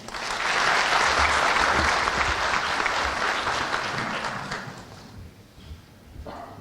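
An audience at a ceremony in Kayseri breaks into loud, sustained applause that fades gradually toward the end.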